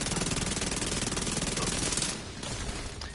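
SMG gunfire in The Division 2 shooter game, a loud rapid automatic burst of dense, evenly spaced shots that eases slightly near the end.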